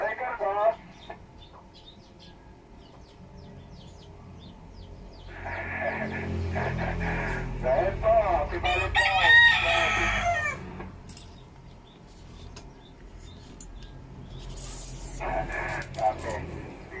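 Rooster crowing outdoors, several drawn-out calls rising over background chatter and other bird sounds, moderately close, with people talking nearby.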